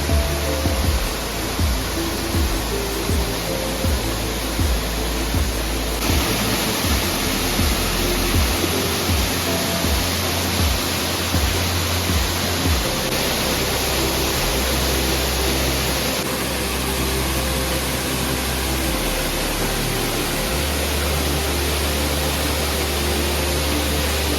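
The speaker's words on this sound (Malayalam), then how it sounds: "അപ്പോൾ ഇങ്ങനെയാണ് ഇവിടുത്തെ വെള്ളച്ചാട്ടം കാണാൻ" A waterfall's steady, full roar of rushing water, loud and unbroken throughout, with no voices.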